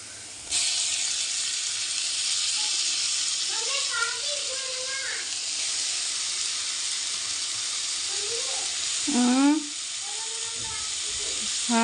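Tomatoes tipped into onions already browning in a pan sizzle with a steady, loud hiss throughout, while voices, including a child's, talk over it.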